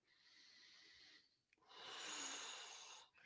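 A person breathes close to the microphone: a soft airy breath, a short pause, then a longer, fuller inhale that swells and fades, all quiet with no talking.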